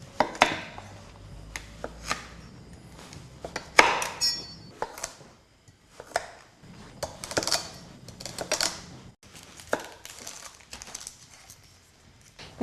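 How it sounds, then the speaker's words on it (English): Vegetables and leek being roughly chopped on a board for white stock, a series of uneven knife strikes in short bursts, close and moderately loud, with no talking. "So I'm just going to roughly chop the vegetables."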